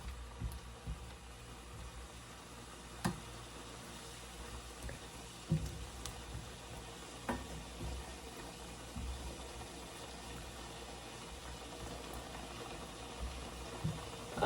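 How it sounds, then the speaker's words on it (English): Yellow potatoes and garlic sausage simmer in a skillet, giving a faint, steady low bubbling hiss with occasional soft pops and clicks spread across a long, quiet stretch. "we will just let it simmer. We will let it simmer to cook the potatoes."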